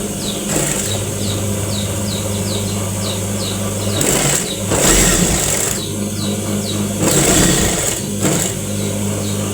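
A sewing machine runs fast stitching a folded seam in hijab fabric, a steady whirring hum with a repeating mechanical tick, briefly louder in short bursts, close and alone.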